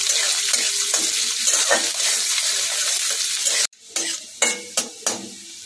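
Chopped onion sizzles steadily in hot oil in a pan for several seconds, then the hiss cuts off abruptly and is followed by a few sharp, separate stirring or scraping knocks.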